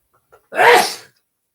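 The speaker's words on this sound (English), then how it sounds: "Even I have to sneeze at times." A single sharp sneeze, close and loud, preceded by a tiny intake of breath, then silence.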